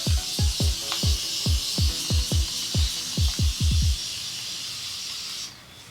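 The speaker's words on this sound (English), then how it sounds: "So spraying Aussie Moist and water mixture on my hair first," A spray bottle of water mixed with Aussie Moist conditioner pumps about a dozen quick, rhythmic hissing bursts close up onto hair, then stops, leaving a soft background hiss.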